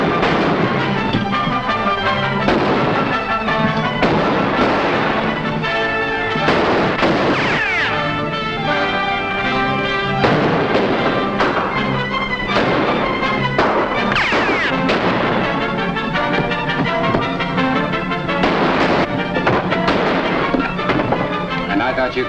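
Rapid gunfire fills a 1940s Western gunfight, loud overlapping shots and ricochets cracking without pause throughout, with dramatic orchestral music and a few shouted voices mixed underneath.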